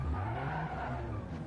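A drifting car in a racing video game lets out a continuous tire squeal over the engine note for a second and a half, fairly quiet and steady.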